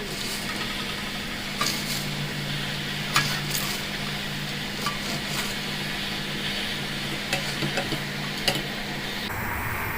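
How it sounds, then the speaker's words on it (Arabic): Spinach being turned over in a full cooking pot, with soft scraping stirs and faint sizzling, a few sharp clicks of the spoon against the pot over a steady low hum. "هنا بقلبها، بجيب اللي فوق تحت واللي تحت فوق"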